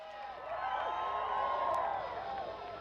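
Spectators at a slopestyle mountain bike finals roar and whoop in a broad, sustained swell of cheering, distant and mid-level, with overlapping excited voices.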